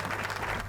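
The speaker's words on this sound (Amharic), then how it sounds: "ጭብጨባ ለዚህ ልጅ ባካችሁን" Audience applause for a boy, a short burst of dense clapping from a crowd, steady and moderately loud throughout.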